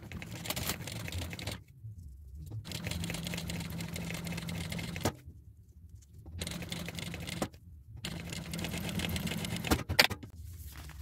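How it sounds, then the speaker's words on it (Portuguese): A sewing machine stitches a fabric seam for a zippered box pouch with a small 2.5 stitch, running in steady whirring bursts of a few seconds each, broken by short silent pauses. "Vou costurar exatamente em cima da linha."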